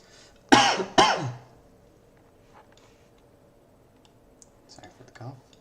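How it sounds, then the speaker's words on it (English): Two sharp coughs close together near the start, up close and loud, followed by quiet faint clicks and rustles. "Sorry for the cough."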